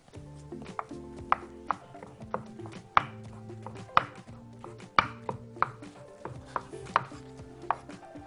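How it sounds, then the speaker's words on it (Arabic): A knife slices sausage into rounds on a board for a waffle sandwich filling, giving sharp, close chopping taps at an uneven pace over faint background kitchen tones. "عندنا حشو تاني هو السوسيس بقى، بص بجيبه نقطعه شرايح"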